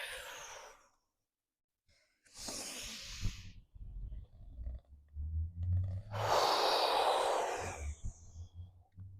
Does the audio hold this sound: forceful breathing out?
yes